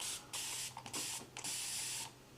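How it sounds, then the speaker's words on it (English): An Aqua Mist spray bottle sprays water over dried gouache artwork in three quick, hissing bursts, the middle one broken up, quiet and close, with no voices. "if I take an Aqua Mist bottle, I'm gonna actually do this over here"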